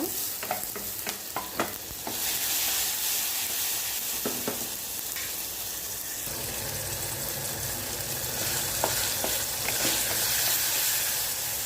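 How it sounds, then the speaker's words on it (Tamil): Mustard seeds and cumin frying in oil in a pan: steady crackles and sizzles, with sharp pops and spattering bursts early on, then a constant frying hiss throughout. "முருங்கைக்கீரை பொரியலுக்கு கடுகு சீரகம் போட்டுக்கேன்"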